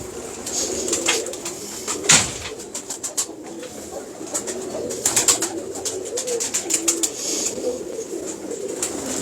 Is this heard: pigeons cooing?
yes